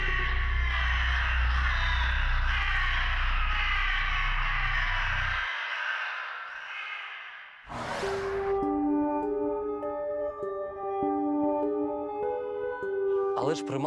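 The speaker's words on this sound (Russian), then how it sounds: "И через секунду ворон бросился на него" A raven caws harshly and repeatedly in a tense mystical scene. The cawing is loud and close, then gives way to eerie tonal music.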